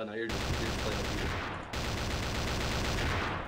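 Gunfire in the Garry's Mod DarkRP video game rattles in dense, continuous bursts like automatic weapons, loud and close, broken by one brief gap.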